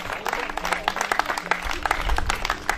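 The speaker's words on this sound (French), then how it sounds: "je vais vous demander d'applaudir notre vainqueur d'étape aujourd'hui" A crowd at the Raid VTT des Monts d'Ardèche mountain bike event applauds the day's stage winner, Élise Chabet, with brisk scattered clapping for a few seconds while voices carry over it.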